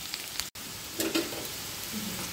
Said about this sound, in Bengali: তো চলো খুব ভালো করে পেঁয়াজটা একটু নাড়িয়ে চাড়িয়ে ভেজে নিই।